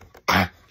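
A single short, sharp cough close by, with quiet room noise before and after.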